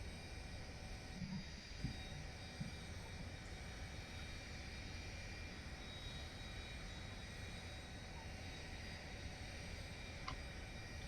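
A quiet, steady drone from an A-10's second jet engine starting in a video game, with a low rumble and faint high whine, a couple of soft clicks, no voices.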